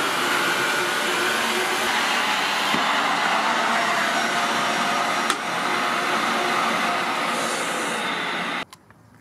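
A Tineco Carpet One carpet cleaner makes a second pass on a damp carpet, giving a loud, steady suction roar close by with a brief dip midway, then cuts off abruptly near the end.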